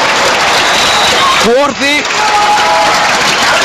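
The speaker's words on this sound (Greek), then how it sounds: "ο Ηρακλής έτοιμος για το fair play κάτω από το ζεστό χειροκρότημα των φίλων του" Warm applause from standing Iraklis fans at a Champions League volleyball final in Rome, a dense continuous wash of clapping that fills the whole moment while a commentator speaks over it.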